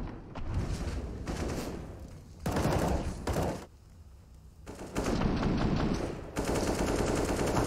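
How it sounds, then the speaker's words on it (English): Rifle fire in a professional CS:GO match on Overpass, loud sustained automatic bursts in several long volleys separated by brief pauses, close and dominant. "Fnatic have enough, you know, covering fire really from those rifles to keep NIP passive."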